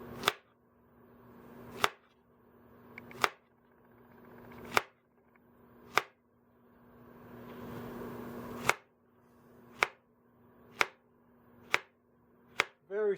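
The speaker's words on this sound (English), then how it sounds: "Cut it into 1-inch pieces," A knife chops food into 1-inch pieces on a cutting board while cooking chicken Milanesca, giving about a dozen sharp, separate knocks at a slow, uneven rhythm, close and fairly quiet, with a faint steady hum underneath.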